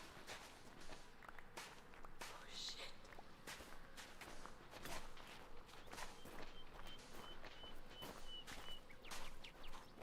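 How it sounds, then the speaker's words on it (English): Heavy, uneven footsteps slam down one after another in a steady series, rough and growing closer, faint in level with occasional birdlike chirps and a muttered voice. "The footsteps get closer. They're uneven and rough, heavy feet slamming with each step."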